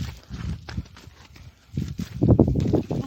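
Bullocks walk across a farm during a groundnut harvest, their hooves landing in irregular, close, muffled thuds and clops that grow louder toward the end.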